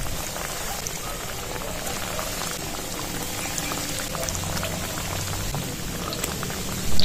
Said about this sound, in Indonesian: baru Upi goreng ke dalam minyak yang sudah panas.